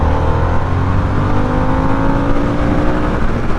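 Harley-Davidson Sportster S motorcycle accelerating hard, a loud continuous engine roar with a rising pitch, heard up close from the rider's position, no voices over it.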